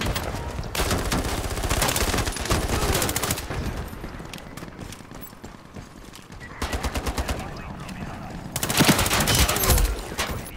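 Rapid bursts of P90 submachine gun fire in the online shooter Ironsight, several loud automatic volleys separated by brief pauses, with the last burst the strongest, over a faint bed of game sound.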